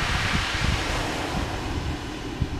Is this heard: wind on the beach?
yes